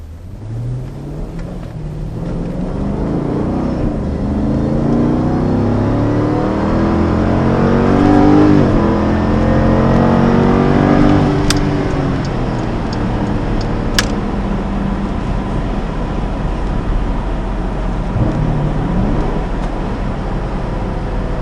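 Jeep SRT accelerating hard up an on-ramp, a loud close engine roar climbing through the gears, rising steadily and holding near full power, with no talk.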